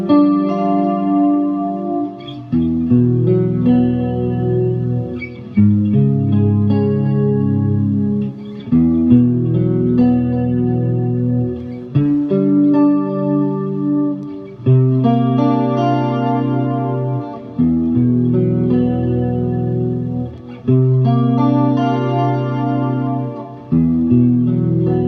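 Guitar playing a song's intro through chorus and delay effects, a steady run of shimmering chords changing every few seconds, loud and alone without talking.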